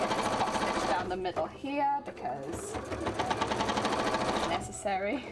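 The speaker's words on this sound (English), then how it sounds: "Let's get this top stitch down the middle here" A sewing machine runs a top stitch down the middle of a cosplay armor piece, its rapid steady needle chatter continuing across the clip in a few bursts while a person talks over it.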